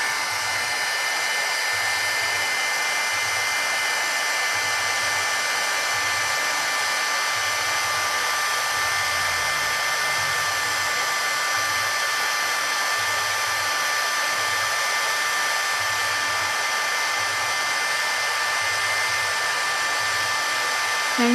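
Electric heat tool blowing hot air to melt embossing powder, a constant, close, even whine and whoosh with a faint rhythmic flutter underneath, no talking.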